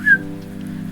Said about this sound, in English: Craig gives me the wolf whistle.